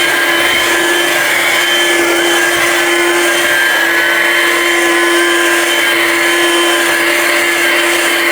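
A Ryobi 18V ONE+ cordless hand vacuum with a powered brush bar runs loud and steady, its motor whine holding an even pitch throughout with no talking.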